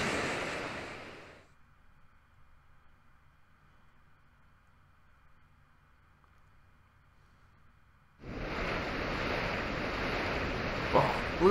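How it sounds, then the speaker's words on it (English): Waves crashing while Mantine surfing in Pokemon Ultra Moon, a loud rushing surf wash at the start that cuts out to near silence, then returns strongly and steadily toward the end. "Oh, look at these huge waves. Mantine surf is a sport."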